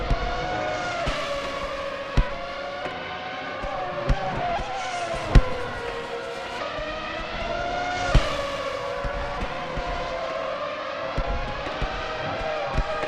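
Formula 1 cars in a racing video game at Vallelunga, a continuous loud engine whine with rising and falling pitch as cars shift gears, sharp transient bumps recurring every couple of seconds, lapped traffic on track, no talking.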